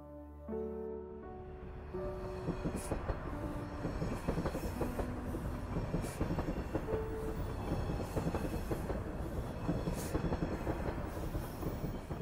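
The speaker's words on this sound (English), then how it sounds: "Shinkansen, Japan's legendary high-speed rail, stretches across mountains, cities, and seas" A Shinkansen high-speed train running on rails, heard as a loud, dense roar of wheels and track with rhythmic clicking joints and faint squealing tones, building quickly at the start and holding steady.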